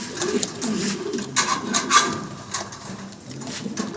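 A fancy pigeon coos in soft, repeated low calls, fairly close, among other birds in a loft with no talk over it.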